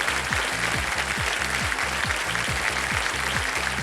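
A studio audience on a televised quiz show claps in a brisk, even burst of applause, close and steady for a few seconds with no talk.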